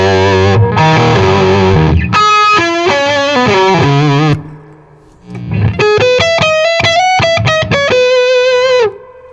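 Electric guitar played through a PRS Super Dallas 100-watt amp with the gain turned up: loud, heavily distorted chords and ringing single notes in two bursts separated by a brief quieter gap.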